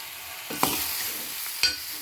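Green chillies, onions and grated raw banana fry in a pan, a soft sizzle broken by a couple of sharp stirring scrapes, close and alone.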